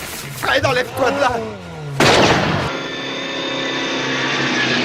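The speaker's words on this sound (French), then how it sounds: "tu as entendu ce coup de feu?" A single loud gunshot cracks out, followed by a lingering ringing tail, after a brief stretch of speech.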